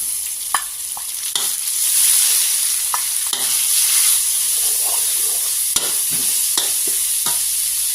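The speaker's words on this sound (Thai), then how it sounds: "เดี๋ยวเราก็นำหมูสับนะคะ ลงผัดได้เลยนะคะ" Minced pork stir-fried with golden garlic and shallots sizzles loudly and evenly, close up. Sharp scrapes and knocks of the spatula against the pan punctuate it, with no talking.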